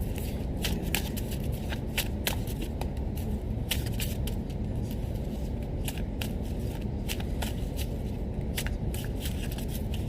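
Tarot-style love relationship reading cards are shuffled by hand, a continuous close riffling with crisp repeated flicks throughout, loud and without talk.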